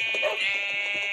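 A single sheep in the Minecraft video game lets out a short, nasal, buzzy bleat, close and fairly loud, with no voices.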